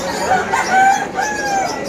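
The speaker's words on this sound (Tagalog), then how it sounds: "Ito pa yung manok eh" Several roosters crow and chickens cluck over a noisy pet market background, the calls overlapping at moderate distance.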